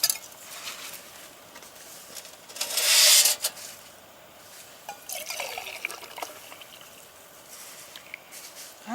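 Liquid pours and trickles in a short splashy burst, then quieter dribbling and light clinks against a faint room background.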